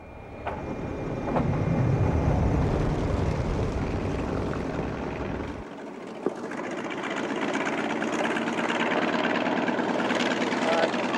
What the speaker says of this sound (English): There are 30 Miao pilots flying T-28 bombers over territory which was once their homeland.